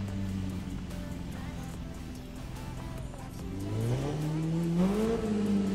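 Motorcycle ridden on O'ahu in The Crew Motorfest: a close, continuous engine drone that rises in pitch and grows louder in the second half as the revs climb, with no speech.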